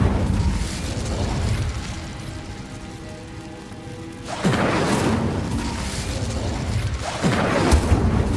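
An Incendio fire spell cast in Hogwarts Legacy: a loud whooshing burst of flame roars up, followed a few seconds later by a second fiery surge over a crackling, rumbling bed.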